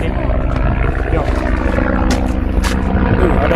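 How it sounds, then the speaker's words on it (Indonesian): Steady loud rotor and engine roar of a helicopter flying nearby over hills, a continuous droning rumble with faint voices underneath. "Ada helikopter lagi."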